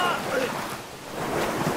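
Waterfall water in the video game Brothers: A Tale of Two Sons rushes as a steady, loud, broadband roar with no break.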